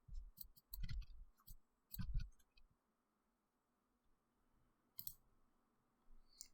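A computer keyboard being typed on at a terminal: a few short, sparse clusters of soft clicks with quiet pauses between them, close and alone.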